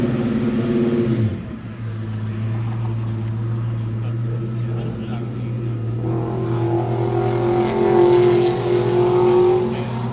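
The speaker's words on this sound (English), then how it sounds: "can we hear the engine? Yes, I'll start it up" A 1965 Ford Mustang 2+2 with dual exhaust cranks and catches near the mic, then settles into a steady, smooth idle that holds loud and even throughout, with a slight swell in revs late on.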